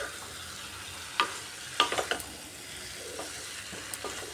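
Rohu fish and eggplant are stirred in a hot frying pan, a soft steady sizzle broken by a few sharp metallic scrapes of a spoon against the pan.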